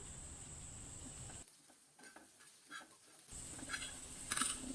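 Prawn fry masala is sautéed and stirred in a pan, giving a soft, steady sizzle with scraping stir sounds. The sizzle drops away for a couple of seconds in the middle and then returns, faint and close.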